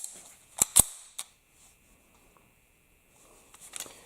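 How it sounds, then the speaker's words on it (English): A Tokarev TT-33 pistol's hammer is checked for its half-cock position during a function test: a few sharp, close metallic clicks come in quick succession, then a softer cluster of clicks follows after a quiet pause. "I always check with the gloves and without the gloves. And also check half cocking, which is the non-shooting position for the Tokarev."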